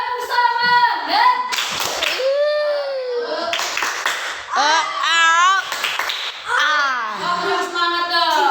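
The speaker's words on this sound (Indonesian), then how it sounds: "Tepuk semangat." Children do a rhythmic "tepuk semangat" cheer, sharp clustered hand claps mixed in with lively sung and chanted voices throughout.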